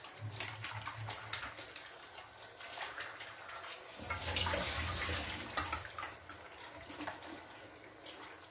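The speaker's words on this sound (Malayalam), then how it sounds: "പച്ചക്കായ കൂടെ കഴുകിയിട്ടിട്ട് നമുക്ക് ഉപ്പൊക്കെ ഇടാം" Raw green plantain being washed under a running kitchen tap for murungakka aviyal: a steady close hiss of flowing water with splashing that swells midway as the pieces are rinsed, no talk.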